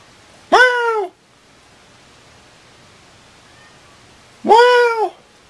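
Domestic cat giving two loud, close meows about four seconds apart, each a short rising-falling call, with near silence between them.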